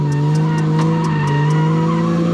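A car circles in donuts around cones, its tires skidding in a sustained, loud squeal over a steady engine drone, with a short rhythmic pulsing chirp repeating through the first part.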